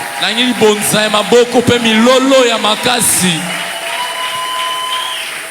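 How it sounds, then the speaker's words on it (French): A church congregation applauds and cheers at the close of a service, with sustained clapping and raised voices that carry over the hall. Some speech is mixed in, and the noise trails off into a quieter crowd murmur. "J'aimerais vraiment une bonne offrande d'acclamation et de cris de joie parce qu'on a fini."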